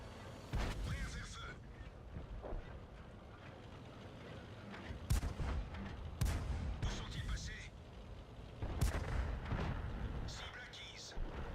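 Tank guns boom in World of Tanks during an AMX 13 57 match, several heavy cannon shots spaced a few seconds apart over engine rumble, with someone talking over the gameplay.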